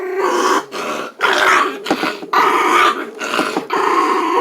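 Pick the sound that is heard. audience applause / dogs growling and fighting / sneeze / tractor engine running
dogs growling and fighting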